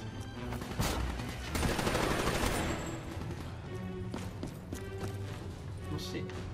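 Gunfire in the Black Ops III campaign, with rapid bursts and a dense volley of shots mixed with game effects, loud and continuous, while a player talks over it.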